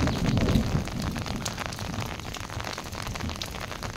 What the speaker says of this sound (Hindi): ऊपर से बारिश लगातार जारी है